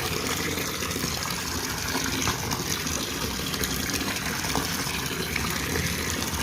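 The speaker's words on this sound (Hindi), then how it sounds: "फिर आज मैं गंदम धो रही हूँ।" Wheat grains being washed by hand in water, a steady broadband rush and slosh of water running continuously and fairly close throughout, with no voice.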